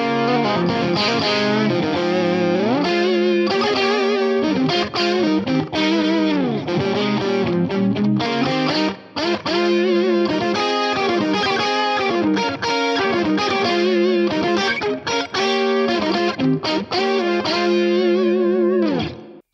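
Electric guitar runs through an Axe-Fx III pitch effect with stepped pitch quantize, playing a continuous distorted, chorused lead line whose notes jump in discrete steps, loud and alone with brief gaps.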